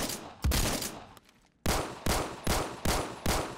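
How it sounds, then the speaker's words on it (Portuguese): Rapid bursts of gunfire from the Roblox shooter Phantom Forces, a long volley, a short pause, then five loud evenly spaced shots in a steady rhythm, close and alone with no talk. "Eu tô atirando num cara morto."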